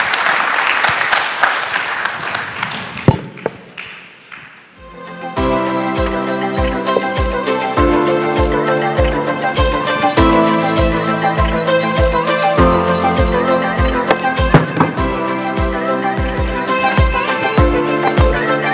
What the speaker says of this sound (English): A big round of applause for the panelists, please.